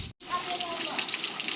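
Floodwater from heavy overnight rain rushes steadily along Wankaner Railway Station Road through Milan Park. It makes a continuous broadband hiss and gush, close and fairly loud, cut by one brief dropout near the start.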